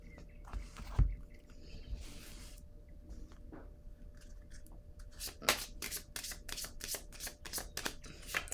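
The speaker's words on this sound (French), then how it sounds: "Attendez une minute, là, je vais piger une autre carte." A deck of tarot-style cards is shuffled and a card drawn, soft handling rustles and taps at first, then a quick run of crisp riffling flicks close to the microphone, quiet overall with no talk.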